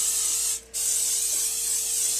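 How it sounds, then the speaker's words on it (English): Pam cooking spray hissing onto a heated George Foreman grill in a steady, close burst that cuts out briefly near the start before resuming for a couple of seconds. "I'm going to start off by spraying this"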